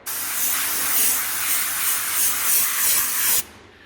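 Compressed air gun blasting a washed part dry on an IST parts-washing machine, one steady loud hiss lasting about three and a half seconds before cutting off abruptly.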